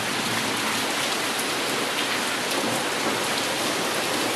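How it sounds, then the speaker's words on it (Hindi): Heavy monsoon-style rain pours down steadily in Islamabad during a thunderstorm, a dense, loud and unbroken roar of water with no voices. "इतनी तेज़ बारिश हो रही है"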